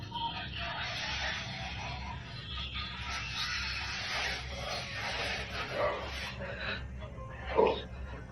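A dog in an upstairs room barks and growls in short bursts over a steady low background hum, with a sharper, louder yelp near the end; the sounds are fairly faint and somewhat distant.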